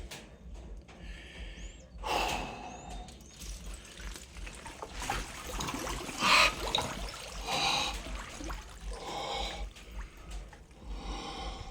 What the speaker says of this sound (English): And let's get in the water.